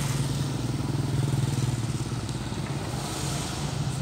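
Motorcycle and vehicle engines idle and rumble nearby in a queue at the Pulau Telo bridge, traffic crossing one side at a time; a steady low throbbing hum runs throughout with faint clatter.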